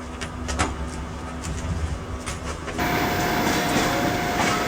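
A Trans-Siberian Railway passenger train pulls away from Vladivostok, with a few wheel clacks and interior rumble heard from inside the carriage before a broad, loud rolling roar with a steady whine takes over.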